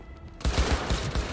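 After a brief hush, a powerful gun in the video game Cyberpunk 2077 opens up with a loud burst of about six rapid, thudding shots in steady rhythm.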